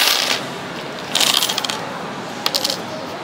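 Coins clink and jingle in two short bursts against a steady background hiss, close and fairly loud.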